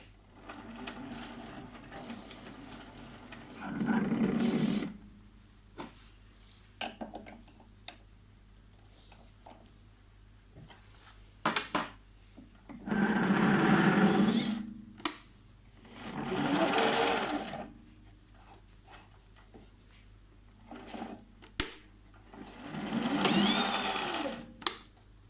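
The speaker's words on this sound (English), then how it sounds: "this is a 13mm triple star tap. I'm going to thread this under power feed" A 13mm triple star tap cuts threads under power feed on a lathe while a custom fountain pen is being made. Several loud bursts of whirring machining come and go, with quieter mechanical ticking in between.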